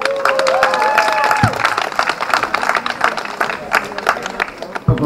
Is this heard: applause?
yes